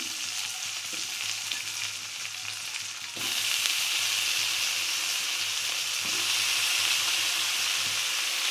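Onion and potatoes frying in oil in a pan, a steady sizzling hiss that jumps louder midway as more potato goes in, then keeps crackling evenly up close with no voices.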